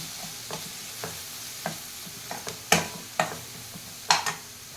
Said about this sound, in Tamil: பெருங்காயத்தூள் போட்டு நல்லா ஃப்ரை பண்ணிக்கலாம்.